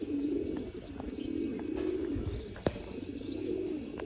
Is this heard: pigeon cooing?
yes